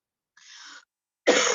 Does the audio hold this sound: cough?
yes